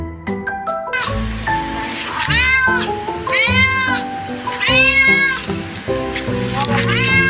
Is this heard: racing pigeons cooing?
no